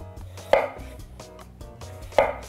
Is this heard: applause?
no